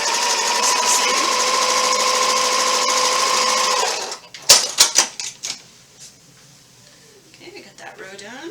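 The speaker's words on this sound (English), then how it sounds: "Make sure you're sewing with a 1/4 inch seam." Sewing machine stitching quilt pieces for an Ohio Star block with a quarter-inch seam, a steady loud whirring run for about four seconds, then stopping, followed by handling clatter and faint sounds.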